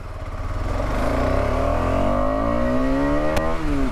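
KTM 250 Adventure motorcycle engine, 250cc, accelerating through the revs, pitch climbing steadily then dropping briefly at a gear change, close and fairly loud.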